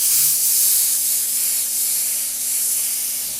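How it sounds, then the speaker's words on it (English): An airbrush sprays paint over a stencil on a beveled edge, giving a steady, close hiss of airflow that runs unbroken the whole time, with a faint low hum underneath. "Can't really see it when I'm spraying on here right now"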